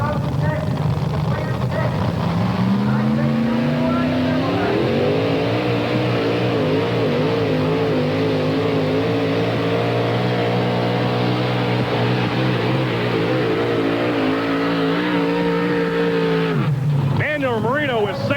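A pulling truck with a 638 cubic inch Chevrolet engine roars loud and sustained down the track at a 4WD truck pull in Chapel Hill, Tennessee, pitch climbing then holding before cutting off near the end, with an announcer talking over it.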